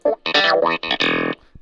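A Casio Privia Pro PX-560 keyboard plays a short, loud burst of distorted notes through a wah pedal, the tone sweeping and wavering for under two seconds before cutting off.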